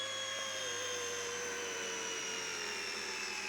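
RCERA C127AI brushless RC helicopter in flight, a steady high-pitched motor and rotor whine holding constant throughout, close and alone with no talk.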